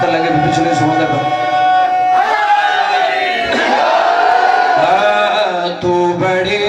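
A majlis audience shouts a slogan together, a loud, sustained massed crowd roar of many voices that swells and ebbs without pause.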